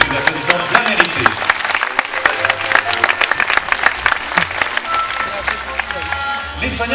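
At a zoo sea lion show, an audience claps in a lively burst of sharp, scattered hand claps, fairly close and loud, while a presenter keeps talking over the applause.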